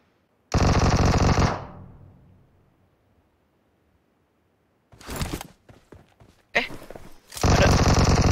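Gunfire in the PUBG Mobile game comes as loud, close automatic bursts: a long opening volley that rings out into silence, then several sharp rapid bursts later on.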